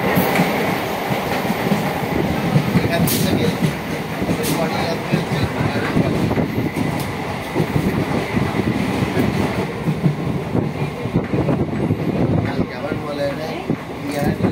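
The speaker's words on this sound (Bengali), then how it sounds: "ট্রেন ছেড়ে দিল এরপর যাবো বাড়িপাড়া" A departing suburban passenger train on a Howrah-area line rattles along the tracks, a continuous loud rumble with rhythmic clickety-clack and metallic squeaks heard from inside the carriage, with passenger voices murmuring underneath.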